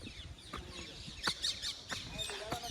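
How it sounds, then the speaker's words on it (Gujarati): Sharp parrot and peafowl calls ring out repeatedly over a noisy outdoor background in the Gir forest near Vrajmi dam, a few squawks and shrill cries spaced through the clip. "પોપટ મોલ ને ઢેલનો અવાજ તમે સાંભળો"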